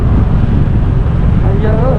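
Strong wind on a coral island roars loudly and continuously into the microphone, a dense rumbling gust that fills the whole clip, with a faint voice briefly under it near the end.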